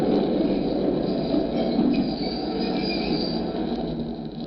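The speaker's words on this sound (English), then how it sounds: "The last train was just pulling in." A train pulls into a station in a 1945 radio drama effect, a continuous loud rumble of rolling wagons with faint squeals of wheels, steady and near, with no voices.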